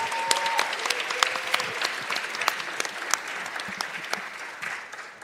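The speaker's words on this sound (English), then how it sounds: "give everybody a round of applause for being here" Audience applause at a national signing day event, a steady wash of clapping from a room full of people that holds at an even level throughout, with a few louder individual claps standing out near the front.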